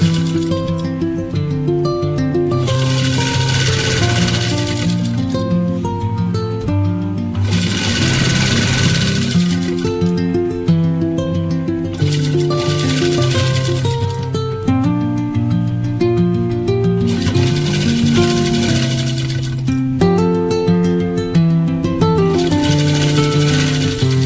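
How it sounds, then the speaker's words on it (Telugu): An electric sewing machine stitches a school uniform shirt collar, running in steady bursts of rapid needle clatter with short pauses between runs, close and continuous over a motor hum. "కాలర్ని ఈ విధంగా కుట్టుకోవాలి"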